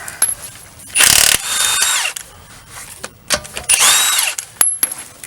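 A power impact tool loosens 21mm lug nuts on a Toyota wheel in two loud, rattling bursts, each about a second long, separated by quieter clicks and handling noises.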